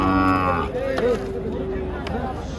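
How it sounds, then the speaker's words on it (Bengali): Young bull calves at a busy cattle market low nearby, with one long moo followed by a softer, lower call, set against crowd chatter and people talking. "দেখেন যেদিকে তাকায় শুধু ষাঁড় আর ষাঁড়, শুধু ষাঁড় বাচ্চা আর ষাঁড় বাচ্চা"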